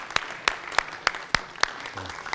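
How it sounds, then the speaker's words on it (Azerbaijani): Sparse claps from an audience greeting a singer onto a stage, about six sharp distinct claps in a slow irregular rhythm, close and clear. "Qarşılayın, böyük alqışlarla"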